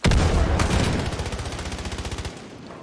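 Gunfire in the video game Far Cry New Dawn: a loud sustained burst of rapid automatic shots, close and dense at first, then settling into an evenly spaced rattle that cuts off near the end.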